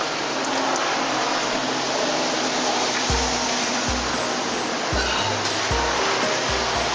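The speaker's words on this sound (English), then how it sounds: "Rain whole day." Rain falls steadily through a whole day on a motorcycle trip across Tibet, a dense continuous hiss with a few low thumps toward the end.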